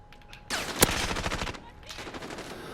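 An MP5 submachine gun fires a rapid, loud burst of about a second in a Modern Warfare match, followed by scattered quieter shots and game noise.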